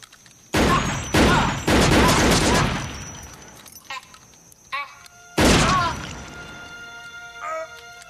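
Gunfire rings out in a film execution scene: a volley of sharp, loud shots in quick succession, then a pause and another heavy burst, with ringing echoes and scattered clatter between them.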